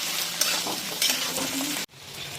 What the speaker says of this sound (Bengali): এটা কিন্তু হাই ফ্লেমেই ভাজতে হবে